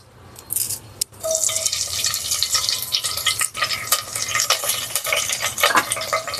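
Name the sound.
curry leaves sizzling in hot oil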